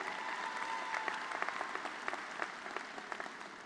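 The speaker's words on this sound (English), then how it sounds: "So let's give a big round of applause for those parents whose work benefits all of Adelphi's students." Graduation-ceremony audience applauding parents at a college commencement, a steady wash of many hands clapping, fairly distant and soft, sustained throughout with scattered sharper claps.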